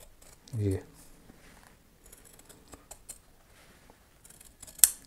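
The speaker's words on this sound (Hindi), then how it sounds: "तो यहाँ से इसको बिल्कुल निशान के ऊपर काट देंगे।" Scissors cutting a fabric band collar along a marked line: one soft snip, then faint scattered rustles and a sharp click near the end, close and quiet.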